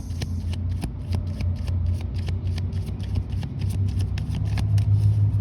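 Tarot cards being shuffled by hand in a steady run of quick, crisp riffles and flicks, close and clear, repeating through the whole stretch with no talking.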